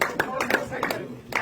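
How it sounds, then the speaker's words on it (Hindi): Audience clapping at a BJP party event where a senior Congress leader joins, heard as scattered, uneven claps mixed with crowd voices and talk over a 1.5-second stretch. "जोरदार तालियों से"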